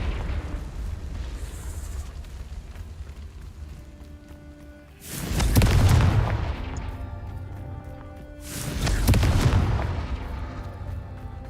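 Two heavy explosions from the Confringo fire spell in Hogwarts Legacy hit a few seconds apart, each a loud booming burst that rolls off slowly over a low background hum.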